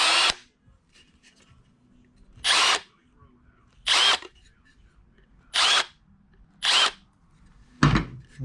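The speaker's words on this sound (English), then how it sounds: "Now drill them out." A power drill boring holes in a metal mounting plate for a bass boat graph mount, five loud, close bursts of about a second each separated by quiet pauses.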